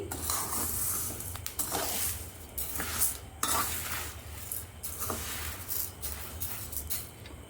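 Moong dal roasting in a pan is stirred in uneven bursts, a soft dry rustle and scrape rising and falling with brief metallic clinks of utensil against the pan, close and fairly quiet with no speech.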